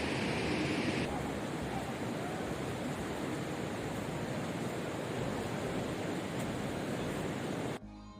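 Steady broadband roar of surf at Muizenberg Beach in South Africa, close and continuous with wind noise on the microphone, holding constant throughout before dropping slightly at the very end.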